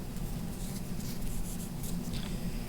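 Pen or marker scratching out the Greek letter mu by hand, a slash followed by a U shape, with soft continuous scraping strokes close up over a low room hum.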